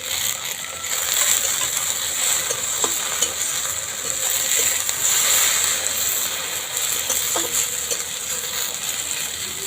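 Okra with chopped tomato is stir-fried in a pan, giving a continuous sizzle with scraping stirs and a couple of sharp clicks of the spatula, close and fairly loud throughout.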